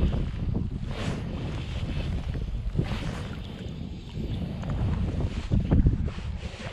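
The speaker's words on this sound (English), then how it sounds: "25 mile an hour plus the gusts" Gusty wind of about 25 mph roars across the microphone, swelling and easing in uneven surges, with a louder gust near the end and no voices.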